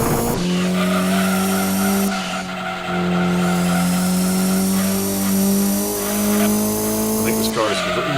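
Racing car in the Gran Turismo 2 video game, four-wheel steering, driving through a corner under constant acceleration: a loud sustained engine drone with continuous tire squeal and skidding, shifting pitch through the turn.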